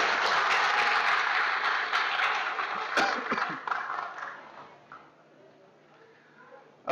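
Audience applause congratulating the winners at a 2016 men's leadership debate forum: dense clapping fades out over several seconds, with a voice talking over it.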